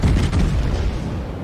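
Heavy naval guns of the Soviet cruiser Chapayev firing in World of Warships, a dense low rumbling boom that rolls and sustains loudly across the whole moment without a clear single crack.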